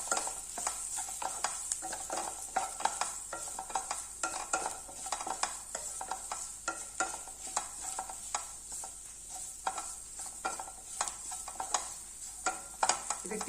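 Spices with garam masala are stirred in a sizzling pan, a spoon scraping in quick, irregular strokes over a constant soft frying hiss, fairly quiet and with no talking.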